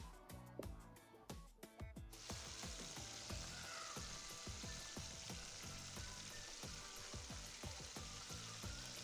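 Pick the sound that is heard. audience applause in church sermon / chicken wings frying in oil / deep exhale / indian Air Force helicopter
chicken wings frying in oil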